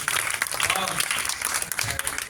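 Audience clapping at a Shiva satsang, a crowd of hands beating together continuously for a couple of seconds, mixed with voices talking.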